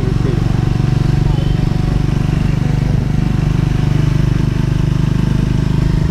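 A Triumph Scrambler 400 X motorcycle engine drones steadily at close range while riding, a loud low rumble with rattling texture that holds constant as the bike keeps moving.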